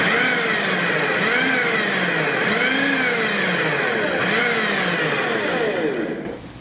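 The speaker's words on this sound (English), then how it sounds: "And let's mince this in the food processor." A food processor mincing a quartered fresh jalapeno whirs loudly and continuously, its motor pitch rising and falling in repeated swells before winding down at the end, close and alone with no talking.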